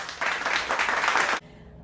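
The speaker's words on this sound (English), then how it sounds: "Let's all give ourselves a clap for that one." Graduates at a 2021 virtual graduation ceremony in Vancouver clap for themselves, a brief dense burst of applause about a second long that stops abruptly.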